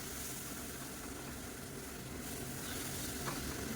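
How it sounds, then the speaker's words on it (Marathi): Green masala paste of ginger and garlic sautéing in a pan for a pea and potato rice dish, giving a steady, moderately loud sizzle that runs unbroken and alone throughout. "या वाटणाला देखील मस्त परतवून घ्यायचं"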